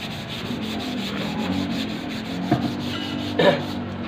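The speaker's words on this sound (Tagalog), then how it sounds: "Yan ay bagong ano ngayon, bagong liha." New sandpaper rubbing steadily back and forth across a surface, a continuous dry scratchy abrasion, close and fairly loud, with a couple of brief knocks near the end.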